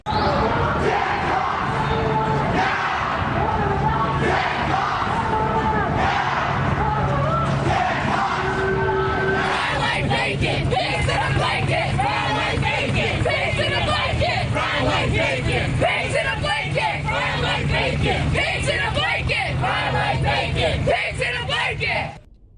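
A large protest crowd yelling and chanting continuously, dense loud massed voices throughout with occasional louder shouts rising above the roar.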